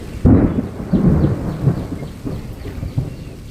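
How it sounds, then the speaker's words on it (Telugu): Deep rumbling thunder rolls close and loud in Deomali, Odisha, a heavy crack followed by lingering rumbles, with light rain pattering underneath. "అంతా ఉరుముతుంది."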